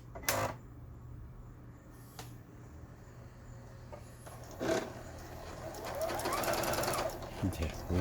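A Juki HZL-G110 domestic sewing machine running a reverse stitch test, its needle mechanism clattering in rapid bursts that swell louder toward the end, with brief clicks in between and a person talking over it.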